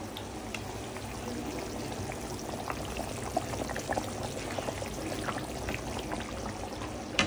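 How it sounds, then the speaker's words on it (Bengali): Tel koi fish curry gravy bubbles at a rolling boil in a pan, a dense, steady hiss with small popping bursts and occasional clinks, no talking. "দেখো বন্ধুরা ঝোলটা কত সুন্দর টকবকিয়ে ফুটে গেছে।"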